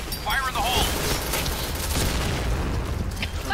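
A bomb blows up in a video game as a dense, sustained barrage of booming, crackling blasts fills the whole stretch at steady loudness, with a voice briefly heard near the start.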